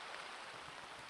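Steady rain falls outdoors in an even, wide hiss of drops spattering on surfaces, constant and moderately soft, with no voices.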